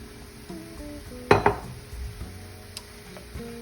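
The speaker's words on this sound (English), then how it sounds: "And then we're going to add the mushrooms." Mushrooms tipped into a pan with garlic: a couple of sharp clatters of food and utensil hitting the pan, followed by light scraping and soft knocks, with no talking.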